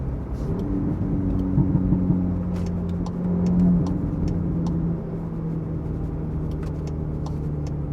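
A Volkswagen Polo GTI cruises along a road at moderate speed, a steady low engine and road drone from inside the cabin with a slight swell partway through and faint clicks overhead.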